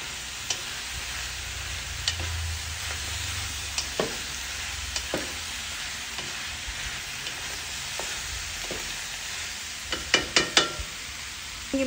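Pakbet vegetables and a bitter gourd hit a hot pan, setting off a steady, close sizzle of frying with a few light clinks and stirring taps, no voices.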